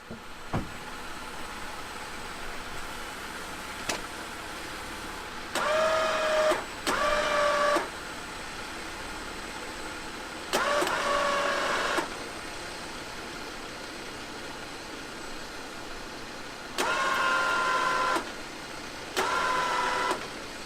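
An electric winch on an overland vehicle, rigged with a double line, pulls a fallen tree off a forest road edge on the Olympic Peninsula. Its motor whines in several separate bursts over a quiet outdoor background.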